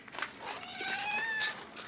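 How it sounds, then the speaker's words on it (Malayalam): A white cat meows close by, with a short drawn-out cry that rises and then falls over a quiet background. "hello, white പൂച്ചയാണ്"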